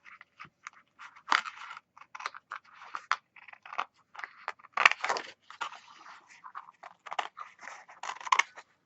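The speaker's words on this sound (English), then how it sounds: "Ah, give me my scissors." Scissors snip through paper in quick, irregular bursts of close, crisp cuts with short pauses between, heard alone with no talk.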